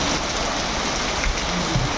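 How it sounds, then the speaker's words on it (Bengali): Steady rain pours down outdoors in Ayodhya, heard from inside a hotel, a dense continuous hiss of drops with no voices. "দারুণ সুন্দর আওয়াজ বাইরে পড়ছে অযোধ্যায় বৃষ্টি"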